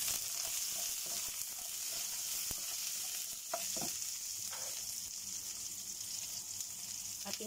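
Ginger frying in a pan for sinigang na hipon, a steady soft sizzle running throughout with a few faint scrapes of stirring, no voices.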